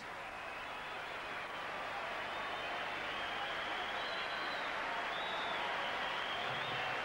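A large boxing crowd applauds Naseem Hamed during his bout against Chris Clarkson, a steady, continuous wash of clapping at moderate volume with no voices standing out.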